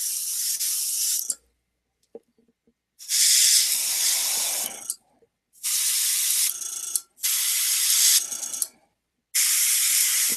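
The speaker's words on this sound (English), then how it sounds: "your ability to kind of control that trigger on your airbrush." An airbrush sprays paint in four loud, close hissing bursts separated by silent pauses, each burst lasting one to two seconds.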